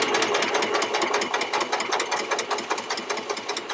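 A sewing machine stitches through layered quilt fabric in a steady, fast rhythmic chatter, close and continuous for a few seconds.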